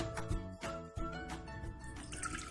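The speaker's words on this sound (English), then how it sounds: "in there will go your oil, in there will go your water" Water poured into a cooking pot while making sweet and sour dipping sauce, a quiet stream with dripping and splashing tones, faint and close.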